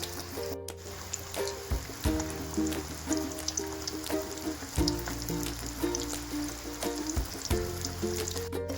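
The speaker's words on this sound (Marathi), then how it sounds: "एक साइड चांगली भाजून द्यायची आणि नंतर पलटी करून घेऊया." Village-style fish fries in a pan with a steady, close sizzle full of crackling pops, continuous throughout with no talking.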